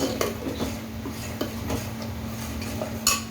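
Masala paste for pav bhaji being fried and stirred on high flame, metal utensil clinks and scrapes against the pan recurring over a steady background hum, with a brighter clank near the end.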